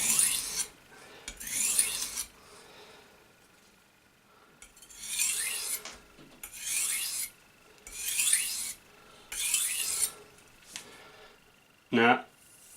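A kitchen knife is drawn across a fine grit whetstone in a series of about six raspy strokes with short pauses between them, close and clear, followed by a brief sharper scrape at the end.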